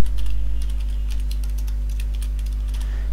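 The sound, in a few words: typing on a computer keyboard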